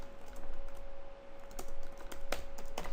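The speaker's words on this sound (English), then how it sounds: "So you just type in row house" Rapid keystrokes on a computer keyboard, close and crisp in quick bursts over a steady background hum, ending with a firmer key press.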